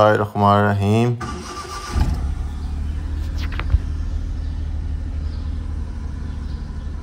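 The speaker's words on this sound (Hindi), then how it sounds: "तो चलते हैं गाड़ी को करते हैं स्टार्ट" A 2018 Suzuki Mehran's engine cranks and catches after a voice speaks, then settles into a steady low idle rumble up close.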